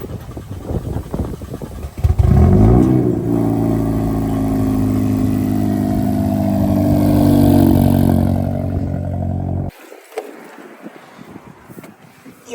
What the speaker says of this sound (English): Almost did not get the cold start on camera